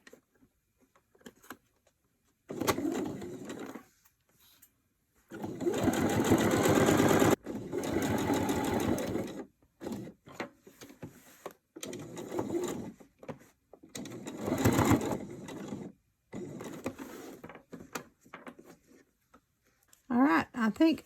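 Bursts of a sewing machine stitching a soft fabric notebook cover in short stretches, a fast mechanical whir that starts and stops repeatedly with brief pauses between runs.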